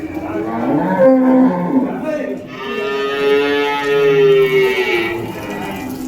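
A pair of bulls at the Vaniyambadi cattle market lets out long, loud lowing moos, one call following another, over steady market background noise.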